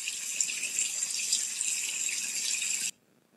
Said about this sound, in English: It was the sound of trickling water.